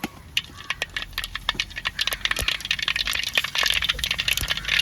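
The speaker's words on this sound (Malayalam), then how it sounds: "അതിൻ്റെ അകത്തോട്ട് കടുകും പൊട്ടി ഉലുവായും പൊട്ടി." Mustard and fenugreek seeds crackle and pop in hot oil for a traditional Kerala-style silver fish curry, with dense, irregular sharp pops close by that thicken into a steady sizzle toward the end.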